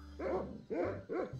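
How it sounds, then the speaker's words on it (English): Three barks from a dog in The Secret of Monkey Island 2, evenly spaced and fairly close, each a short harmonic yelp standing alone without talk. "I was talking to the dog."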